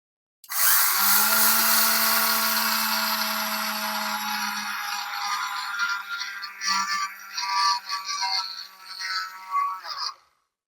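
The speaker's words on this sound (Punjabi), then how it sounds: "ਇਹਨੂੰ ਆਪਾਂ ਪੀਸ ਲਾਂਗੇ ਪਾਊਡਰ 'ਚ ਆਪਾਂ ਇਹਨੂੰ ਹੁਣ ਗ੍ਰਾਈਂਡ ਕਰਨ ਲੱਗੇ ਆਂ" An electric grinder grinds flaxseed into powder with a loud, continuous high whine that starts abruptly, holds steady, then roughens and sputters toward the end before cutting off.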